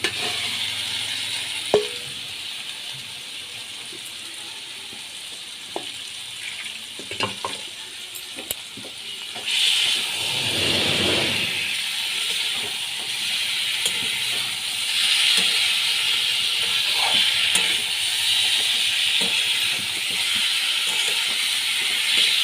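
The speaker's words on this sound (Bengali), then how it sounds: "আলু দিয়েও আবার ভালো করে আমি কষিয়ে নিচ্ছি এর মধ্যে আমি ফুলকপিগুলো দিয়ে দিচ্ছি" Cauliflower and potatoes sauté in a pan with a steady, moderate sizzle; occasional light clinks and stirring scrapes sound early on, and the frying swells noticeably louder about halfway through when the cauliflower goes in.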